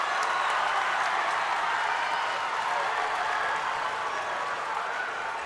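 Home crowd of Warde fans cheering and applauding steadily in a gym during a girls high school basketball game, a dense, sustained roar with clapping throughout and no clear break.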